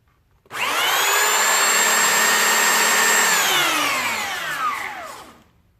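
Belt sander sanding a wooden angel craft held in a wood clamp, a loud, steady close-up whine that starts abruptly, holds for a few seconds, then slowly winds down in pitch.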